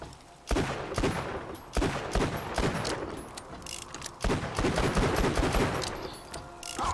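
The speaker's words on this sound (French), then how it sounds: "si je tire là, ça fait pas de trou" Gunfire in the video game Borderlands 2 comes as dense bursts of rapid shots and impacts, loud and close, separated by short pauses.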